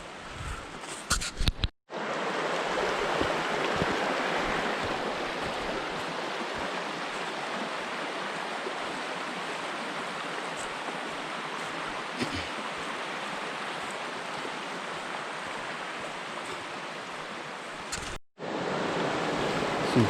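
A river rushes below a hiking trail on Mt. Flume in New Hampshire, a loud, steady broadband roar of flowing water running unbroken for most of the stretch, with brief handling noises at the start and end.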